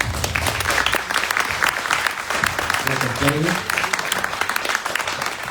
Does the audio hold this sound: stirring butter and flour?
no